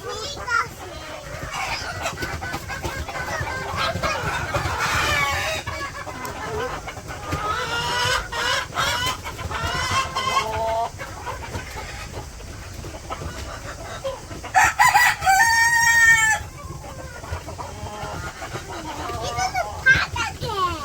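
Chickens cluck and squawk in the background while people, including children, talk nearby. A brief, louder squawk rises partway through.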